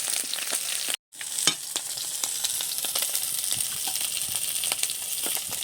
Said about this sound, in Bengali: শুকনো লঙ্কা আর গোটা জিরে বেশ সুন্দর করে তেলে ভেজে নিয়েছি।